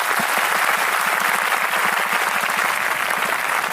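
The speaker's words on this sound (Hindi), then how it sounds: "यीशु जी के लिए ताली बजा देंगे।" An audience claps for Jesus at a Christian gathering led by Sadhu Nityanand, with dense, even applause sustained from start to finish.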